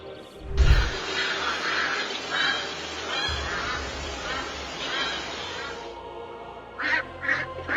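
A duck quacks and honks in alarm during a hawk strike launched from the forest edge, loud, harsh calls running continuously over a rumbling outdoor background, with a heavy thump near the start and sharper repeated squawks at the end.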